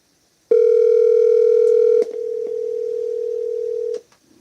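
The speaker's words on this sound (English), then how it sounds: "I think I might have been dialing the wrong number. Let me try again." A telephone call signal, a loud steady electronic tone that switches on abruptly, shifts to a thinner tone partway through, then cuts off, with a few faint clicks on the line.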